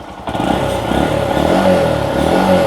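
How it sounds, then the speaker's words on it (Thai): A used motorcycle in good condition catches on the first try without throttle help, bursting to life after a brief moment of quiet and settling into a steady, loud, close-up idle. "ผมมาสตาร์ทรถกันดีกว่า นี่ครับทีเดียวติดไม่ต้องบิดคันเร่งช่วยเลยนะครับ"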